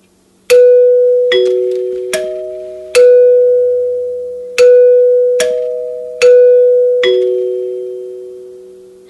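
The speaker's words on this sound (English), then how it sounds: "These are the 8-note bar tube chimes, are some of the nicest sounding chimes that NuTone had ever made" NuTone LA70 eight-note short tube bar doorbell chime playing its melody: eight loud, clear, ringing strikes at an even pace, each tone sustaining and decaying into the next, with no talking.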